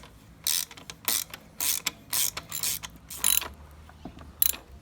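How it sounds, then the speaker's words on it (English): A ratchet-style wrench tightening the shock bolt nut on a Honda CRF 110 motorcycle, about eight quick close clicking bursts in an uneven rhythm, with no one talking. "right now we're just tightening the nut up"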